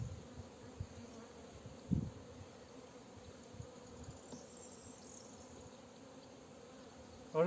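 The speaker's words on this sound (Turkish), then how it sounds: "Arı yavru sökmüş." A steady, low insect buzz of many honeybees at a hive hums continuously, with a couple of brief louder bumps and handling noises near the start and end.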